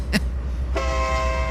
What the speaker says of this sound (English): I'm honking the horn